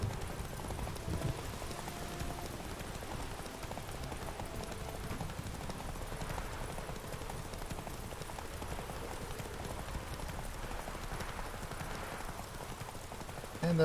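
Horse hooves clip-clop steadily and faintly in The Witcher 3, a quiet continuous trotting rhythm under low ambient game noise, with no talk.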